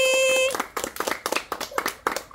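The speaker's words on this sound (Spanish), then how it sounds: "¡Aplausos solo para la villa!" Scattered audience clapping in short irregular bursts, following a sustained tonal sound at the start, with the applause rising and fading unevenly rather than holding steady.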